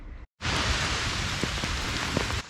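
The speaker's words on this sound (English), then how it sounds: "but it's freaking raining" Steady rain pours down outdoors on a May day during yard work with an electric lawnmower in California, a dense, even hiss that starts after a brief silence and continues with a few louder drops.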